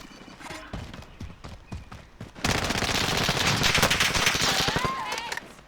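Sustained automatic gunfire in Call of Duty: Warzone, a loud rapid burst starting a couple of seconds in and running steadily to the end, preceded by quieter game sounds.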